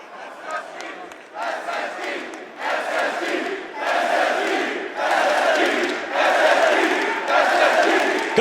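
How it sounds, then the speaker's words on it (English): Large esports arena crowd at a Rainbow Six-style Atlanta Major grand final chanting in loud rhythmic bursts, swelling repeatedly and growing louder over several seconds. "hearing a team that's been eliminated, chanted in the crowd"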